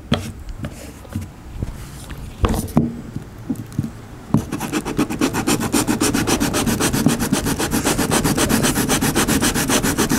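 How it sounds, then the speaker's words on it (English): An arcade cabinet is sanded by hand: scattered knocks and scrapes at first, then a fast, steady back-and-forth rasping of sandpaper, close and continuous. "using a hand sander is the way to go here"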